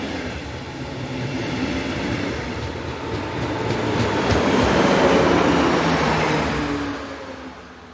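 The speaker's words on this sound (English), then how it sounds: "Motive power on these is always a Dresden Class 143 electric." Dresden Class 143 electric locomotive, number 143562, hauling an S-Bahn train, rumbling loudly past with rail clatter that swells to a peak mid-pass before easing off.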